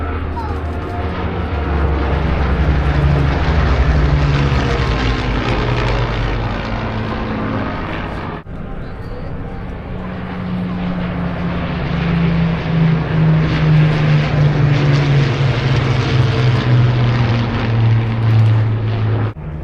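A vintage propeller warplane from the Battle of Britain flight flies past at the Eastbourne airshow, its engine drone loud and sustained, swelling and shifting in pitch as it passes, with a commentator speaking over the noise.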